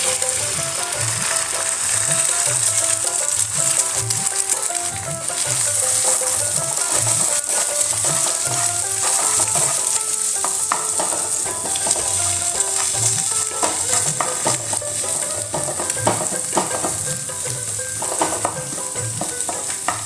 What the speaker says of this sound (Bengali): এবার এখানে ডিমটা ফাটিয়ে দিয়ে দেবো।